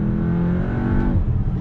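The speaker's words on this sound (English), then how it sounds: "listen to the pops and the bangs from the exhaust there" A 2-litre turbo car accelerates on a road, its engine droning loudly and steadily close by with rough crackling from the exhaust.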